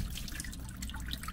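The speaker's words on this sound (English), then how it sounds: "Water's going all the way up to the top" Water from a pressure-activated cup washer sprays upward and drains into a sink, a steady close dripping and trickling with no voices.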